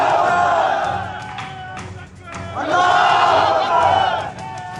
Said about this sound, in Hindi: इस भीड़ ने भी सांप्रदायिकता का जवाब सांप्रदायिक नारों से दिया।